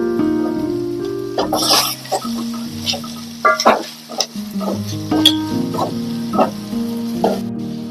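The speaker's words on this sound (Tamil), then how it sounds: "இப்ப இது கூட 1 ஸ்பூன் இஞ்சி பூண்டு பேஸ்ட் சேர்த்து பச்சை வாசனை போற வரை வதக்கிக்குவோம்" Onions and ginger garlic paste sauté in a pan, sizzling steadily while a spoon stirs and scrapes in irregular bursts, with a few brief sharp clinks.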